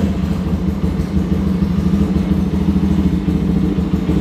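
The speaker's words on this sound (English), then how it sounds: "I'll turn the bike on and I'll show you real quick." A 2022 Lifan KPM200 motorcycle engine running close by with a steady, loud low-pitched idle rumble and a faint mechanical clatter, alone without talk.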